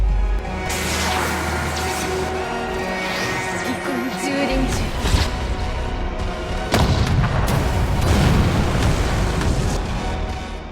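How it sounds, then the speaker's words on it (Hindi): Ultimate blast from an artificial-power attack in a Bleach Thousand-Year Blood War anime battle: dense, loud rumbling explosions and booms rolling continuously, with a fresh surge of blasts midway, layered over dramatic soundtrack with no talk. "जिसे वहाँ एक अल्टीमेट ब्लास्ट होता है।"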